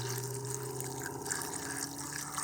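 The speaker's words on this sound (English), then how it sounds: "Just cover with water." Water pours steadily into a backpacking cook pot over ramen noodles, a continuous close splashing trickle at low volume with no talk.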